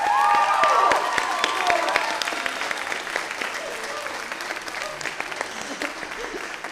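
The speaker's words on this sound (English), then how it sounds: "Let's all give him a round of applause for such a great first year." An audience at an end-of-year school band pops concert breaks into dense applause that starts loud and slowly thins into scattered claps over several seconds.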